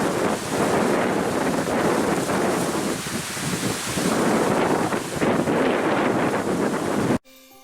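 Strong wind buffeting the microphone in a steady, loud roar with gusts rising and falling, alongside rushing water, during snowfall while musky fishing in fall, ending abruptly.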